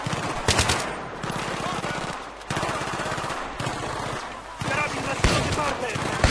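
Rapid gunfire in Battlefield 3, with bursts of automatic fire and sharp single shots in quick rhythm, close and loud, coming in several clusters while someone talks over the shooting.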